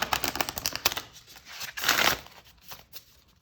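Oracle card deck shuffled by hand, a quick run of close, soft papery riffles and flicks with a brief louder burst midway, heard alone without talking.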